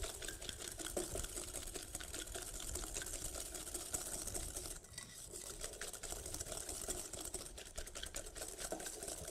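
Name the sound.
whisk mixing cookie dough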